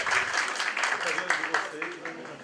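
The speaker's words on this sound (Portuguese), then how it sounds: "Vamos bater palmas pra esses irmãos." Audience at a forum applauding, a brief burst of scattered, uneven clapping with voices talking over it.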